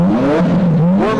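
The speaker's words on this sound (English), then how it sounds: "Warming up the engine, getting ready for qualifying." An IndyCar race car engine warming up in the pits before qualifying, loud and close, with a high whirring revving tone that swells, dips and climbs again over a brief burst.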